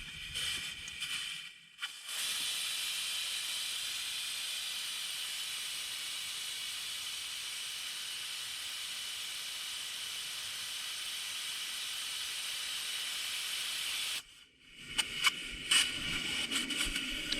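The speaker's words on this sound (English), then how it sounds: "So it's going to allow you to pull the valve outside of the stem and allow the air to come out" Air hissing out of a tire's valve stem with the valve core pulled, a steady, unbroken hiss lasting about twelve seconds, with handling noises before and after.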